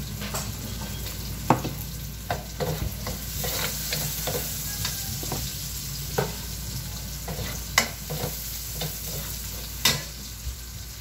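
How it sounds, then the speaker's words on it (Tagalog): Garlic sizzles and crackles steadily in a hot pan with pork bone stew ingredients, a continuous frying hiss broken by occasional sharp stirring clinks and pops, close and moderately loud, with no talking. "Tapos ihulog natin ang bawang."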